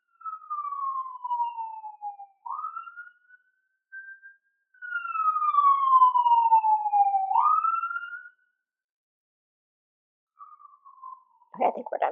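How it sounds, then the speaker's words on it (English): Emergency sirens passing through a neighborhood, wailing tones sweeping down and up in long cycles, fairly distant and clear, fading out before a brief rustle at the end. "Hold for sirens."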